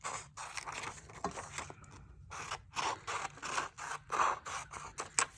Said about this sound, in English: So let's cut first on the dotted lines all the way.